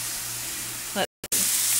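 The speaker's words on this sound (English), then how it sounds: "Just frying it up." Onions, mushrooms and garlic frying in a pan give a steady, dense sizzling hiss. It is broken by a brief dropout near the middle, then resumes at the same level.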